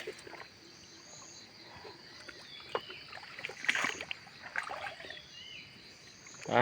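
A small rowboat being rowed along a river on a sightseeing trip, with quiet, irregular oar splashes and water sloshing against the hull, a steady insect hum behind, and a louder splash right at the end.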